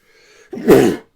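A single close, sharp sneeze, preceded by a faint intake of breath and ending abruptly, heard alone in a quiet room.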